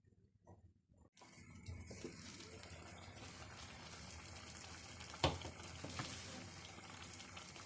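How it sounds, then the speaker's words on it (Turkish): Two glasses of water pour and splash into a cooking pot of eggplant dish after a brief quiet start, a continuous gushing sound with a small clink partway through. "2 su bardağı su ekliyoruz."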